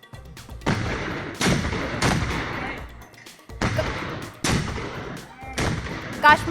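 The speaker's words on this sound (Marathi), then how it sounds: "काश्मीरमधल्या नियंत्रण रेषेवर पाकिस्तानी लष्कराकडून गोळीबार" Gunfire is exchanged along the Line of Control in Kashmir. Several loud bursts of shots and thuds come in uneven clusters separated by brief pauses.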